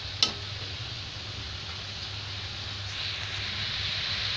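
Masala spices frying in a covered pan for mixed vegetables, a soft steady sizzle with a low hum beneath, one sharp clink near the start and the hiss swelling slightly toward the end.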